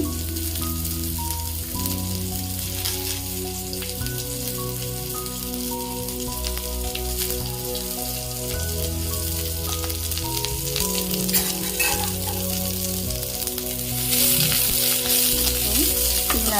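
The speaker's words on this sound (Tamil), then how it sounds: "நீங்கள் இந்த காயோட தோலை வந்துட்டு நல்ல எண்ணெயில் கொஞ்சம் போட்டு ஃப்ரை பண்ணிக்கோங்க" Ridge gourd peel frying in oil, a loud steady crackling sizzle that carries on throughout, with a sustained tonal hum beneath it and no voices.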